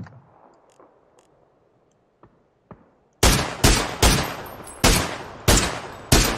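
Gunshots in a shooting video game: after a few faint clicks and quiet ambience, six loud, close single shots ring out at roughly half-second to second intervals, each with a sharp attack and short decay.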